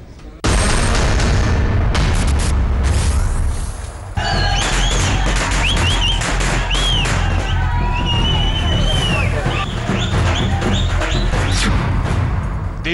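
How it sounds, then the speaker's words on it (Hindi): Firecrackers bursting at a celebration in Kashmir, loud rapid crackling and popping bursts with whistling streaks overhead, continuing densely over a noisy crowd with voices mixed in. "देश में फूटे गद्दारी के पटाखे"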